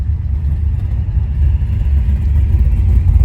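A 1980 Trans Am Turbo accelerates hard through its gears, a loud, steady low engine rumble heard from inside the car that builds slightly toward the end.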